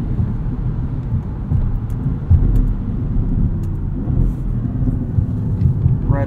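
Interior engine and road rumble from a 2016 Audi S7 on winter tires, a steady, loud low drone with tire roar and faint thumps, driving without speech.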